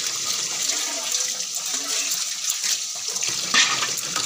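Water splashes and sloshes steadily as boiled food is rinsed in a kitchen, a continuous moderate wash with small bumps of movement.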